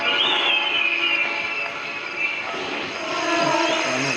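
A helicopter engine in the horror video game Granny Chapter Two gives a loud, steady droning whir with a whining tone, running continuously for the whole stretch with no talk.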